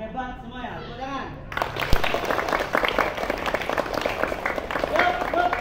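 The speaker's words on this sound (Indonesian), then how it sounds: "tepuk tangan" A group of schoolchildren at an outdoor outbound activity break into quick, scattered hand clapping after an adult speaks, and the applause continues under talking.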